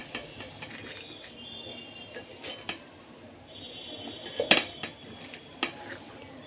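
Cabbage being put into a pressure cooker gives quiet metallic clinks and light knocks of utensils against the pot, scattered and fairly faint, with a sharper cluster of clatter near the end.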